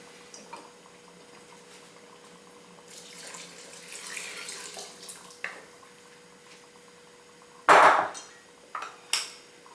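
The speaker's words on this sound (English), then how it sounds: "So this is the time that I actually pour in some water." Water is poured into a pot while cooking chana masala, a soft washing rush that swells in the middle, followed by a sharp splash and a couple of brief clinks near the end.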